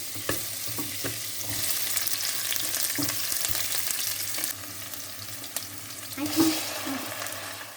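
Food stirred in a frying pan with carrots, a steady close sizzle broken by a few scraping and tapping strokes of the spoon against the pan.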